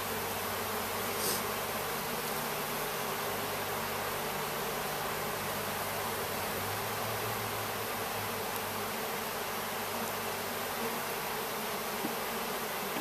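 Honey bees buzz in a dense, steady drone from an opened hive, close and continuous throughout with no voices.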